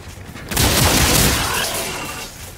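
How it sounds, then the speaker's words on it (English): A single loud shotgun blast in the video game Infinite Warfare erupts with a harsh broadband crack and rumbling boom, then trails off in a noisy decay. "This fucking shotgun just shreds these guys."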